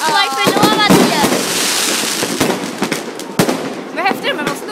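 New Year fireworks spin with whistling, rising tones and then burst in repeated sharp bangs, loud and close, while people chat and exclaim throughout.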